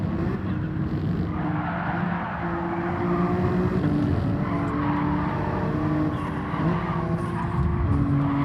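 A race car in Gran Turismo 7 loses grip and skids, its engine droning steadily with tire squeal running through the whole stretch, loud and continuous with no voices.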